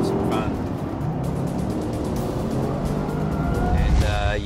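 An HSV performance car driven hard on a race track, with a dense, steady engine roar and tyre noise throughout, recorded close from inside while people talk over it.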